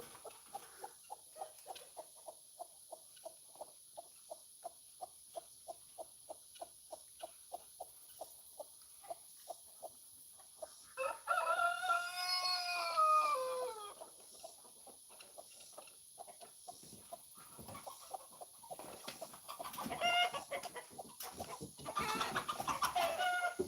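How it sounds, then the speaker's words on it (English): A rooster clucks in a steady string of short, quiet notes, then gives a loud, drawn-out crow at close range, followed by more scattered calls. "I stopped him. I made him crow."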